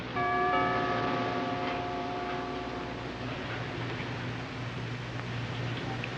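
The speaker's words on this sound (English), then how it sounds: "No, I'll ring the bell." A doorbell chime rings out once, its tones lingering and fading over a few seconds against a steady background hum and noise.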